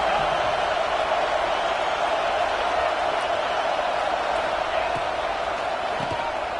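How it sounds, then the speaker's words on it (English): Stadium crowd at a UCLA versus ASU college football game, a dense, steady roar of many voices filling the air from start to finish without a break. "This crowd bringing the energy and noise early."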